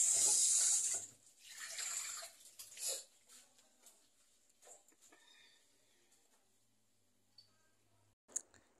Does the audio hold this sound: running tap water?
yes